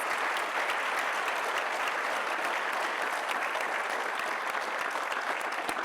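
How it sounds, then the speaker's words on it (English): Steady, dense applause from an audience at a school district Teacher of the Year ceremony, honoring a wine, beer and spirits club sponsor; even and sustained throughout, with no voices standing out. "Please join me in giving them a round of applause."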